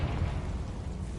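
Confringo fire spell explosion in Hogwarts Legacy: a short, dense, low rumbling burst that stays full and loud throughout, with no clear attack or decay.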